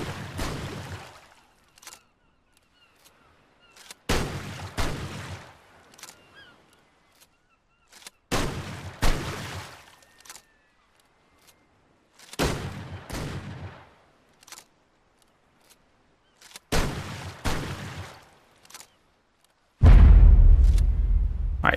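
A shotgun in ARK Ascended fires again and again, each loud blast standing alone with a short ringing tail and quiet gaps of a second or two between shots, and a final heavy burst at the end.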